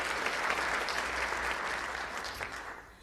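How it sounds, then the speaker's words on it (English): An audience at a talk on decentralized data preservation gives a round of steady, moderately distant applause that fades slightly near the end. "if we could all give them a round of applause in their absence"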